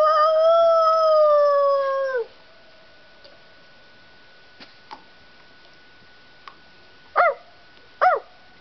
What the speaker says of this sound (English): The wolves are howling.